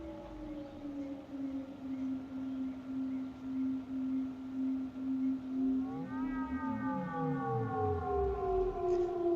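A synthesized creature-like sound effect, a wild-animal call, sustained and loud with gliding, wavering pitch, rising sweeps and layered tones shifting in volume and movement, with no talking.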